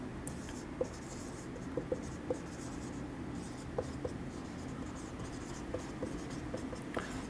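Marker or chalk writes on a board during a civil engineering lecture, producing quiet scratchy strokes with scattered sharp taps over a faint room hush, close but soft, with no speech.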